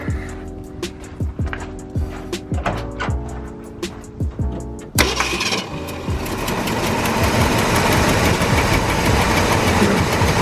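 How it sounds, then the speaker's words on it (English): A 1967 Ford F100 pickup's V8 cranks with a rapid rhythmic starter chug for several seconds, then catches and settles into a loud, steady, rumbling idle close by, with no voices. "It fires up no problem. And it sounds really good too, because it's a V8."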